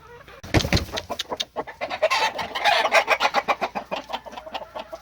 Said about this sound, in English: Very fine chickens.